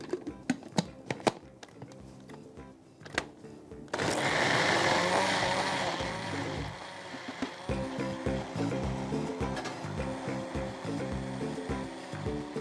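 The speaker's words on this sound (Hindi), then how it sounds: "ये डाल के let's give it a good blend." An electric blender whirs through a maghaz kabab mixture, starting after a few soft knocks, with a loud steady motor roar that later turns rougher and pulsing as the contents churn, close by and without talk.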